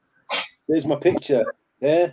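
A single sharp sneeze bursts out early, followed by a person speaking in a quiet indoor setting.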